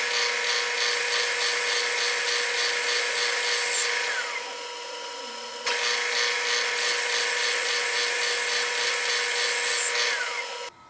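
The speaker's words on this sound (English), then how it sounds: "I'm just coming down and boring it. I'm going to just keep boring out until I get where I want to be." A milling machine bores the cam hole of an engine cam cover, giving a loud, steady high-pitched whine with a rhythmic chattering cut, pausing briefly midway before the cut resumes and runs to the end.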